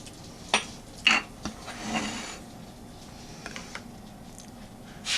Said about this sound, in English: I'm going to add just a hair bit more pepper and stir it in